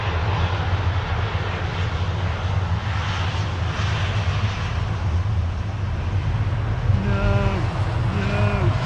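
Jet airliner taxiing at Manchester Airport, a steady low engine rumble and whine held throughout, with a passing rising tonal whine near the end.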